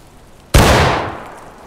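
One sharp, loud gunshot from a gun in the video game War of Rights, fired during skirmish training, bursts suddenly and decays over about a second.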